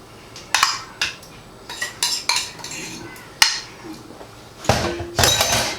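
Metal spoon scraping and clinking against a dish while scooping and turning pieces of chicken, a series of close, sharp clatters in irregular bursts with brief pauses between.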